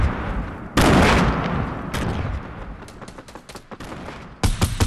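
Rapid automatic gunfire from a Fortnite squad firefight arrives in loud close bursts, with dense volleys early and late and quieter rattling shots in between.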